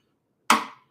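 A single sharp percussive strum on a flamenco guitar, a crisp attack that rings briefly and decays within a fraction of a second, alone in silence.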